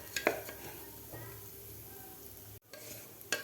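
Broken wheat dalia roasts in ghee in a pan over medium heat, with a soft continuous sizzle and occasional sharp scrapes and clinks of a spoon stirring against the metal.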